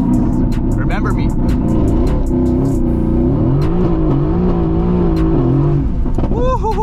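A 670-horsepower Mercedes-AMG GT S does a launch-control start on a wet road with traction control fully off, its engine droning loudly and revving up and down close inside the cabin while people talk and shout over it.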